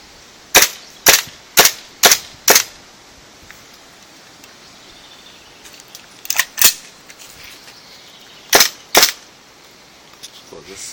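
Airsoft gun firing BBs in sharp single shots, five in quick succession, then a pair, then another pair, close and loud with quiet gaps between bursts.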